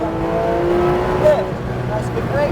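A Porsche 911 GT3 RS engine pulls hard at full throttle on a Sonoma race track, a steady loud drone with rising engine tones, while an instructor talks over it.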